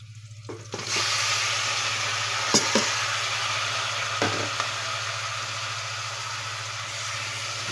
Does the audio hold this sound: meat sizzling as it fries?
yes